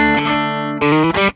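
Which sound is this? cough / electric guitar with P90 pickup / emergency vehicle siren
electric guitar with P90 pickup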